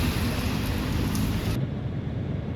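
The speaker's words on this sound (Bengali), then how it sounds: "হঠাৎ করে বৃষ্টিটা আবার জোরে স্টার্ট হয়ে গেল" Heavy rain pours down with a deep thunder rumble beneath it, loud and steady, then eases suddenly partway through; heard while sheltering at a roadside dhaba in North Bengal.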